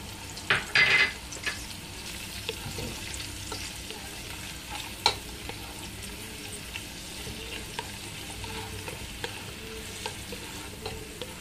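Garlic sautés in a pan for papaitan, a soft steady sizzle with occasional stirring scrapes and a couple of brief clinks near the start and middle; no voices.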